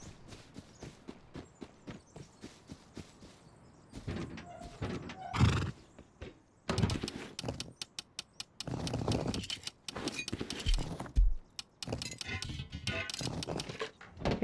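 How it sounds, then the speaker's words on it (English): A horse in the video game Rust whinnies loudly several times over steady clip-clop hooves and scattered clinks, with the neighs rising in bursts across the stretch. "We're gonna take the horse and we're out of here."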